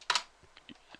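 Someone types a few quick keystrokes on a computer keyboard. A soft double clack comes first, then lighter, faint taps, all close by and with no voices.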